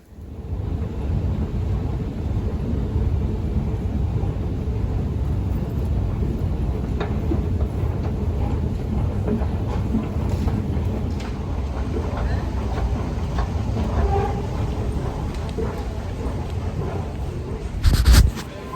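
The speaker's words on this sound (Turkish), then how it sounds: "Metroya biniyorum." A steady rumbling roar of a metro train in motion fills the space continuously, with a brief clatter near the end.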